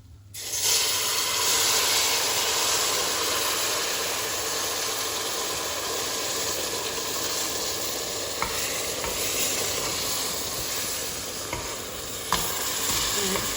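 Syrup is poured slowly into roasted flour for halva and hisses steadily in the hot pan, a loud, continuous broadband sizzle that starts abruptly and holds for many seconds with a few small pops, no voices.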